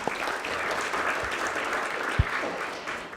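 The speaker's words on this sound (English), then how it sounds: "that deserves a round of applause" An audience at a fire chiefs' panel discussion applauds, a dense, steady wash of clapping hands throughout with no talking over it.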